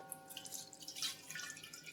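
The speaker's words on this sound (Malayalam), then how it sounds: "ഇതിൻ്റെ പകുതിയാണ് ഞാൻ ഈ ചീനച്ചട്ടിയിലേക്ക് ഒഴിച്ചു കൊടുക്കുന്നത്." Oil for a mango pickle trickles into a frying pan as a faint, soft pour with light drips and splashes. It is quiet and close, with no voices.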